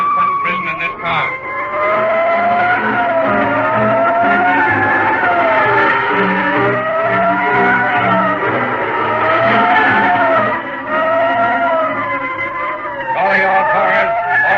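A Studebaker sedan speeds along with squealing tires in a vintage radio drama effect, wavering tire screeches and engine drone rising and falling continuously, loud and close.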